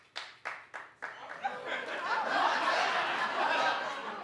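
A studio audience on The Wendy Williams Show talk show opens with a few sharp separate claps, then swells into sustained loud applause mixed with chuckles and laughter.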